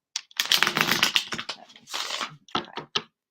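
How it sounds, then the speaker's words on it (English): A deck of cards is riffled and shuffled close up, bursts of rapid flapping followed by a few soft taps. "Let me give this one more shuffle."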